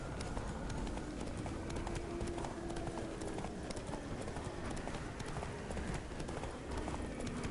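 Rapid, steady hoofbeats of a galloping horse in The Witcher 3 video game, faint and continuous with a rhythmic clatter, under a brief spoken voice.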